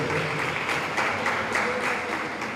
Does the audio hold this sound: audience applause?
yes